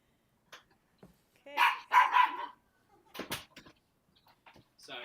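A pet dog indoors at home gives a short burst of a few faint barks, with brief quiet spells and a person speaking softly nearby.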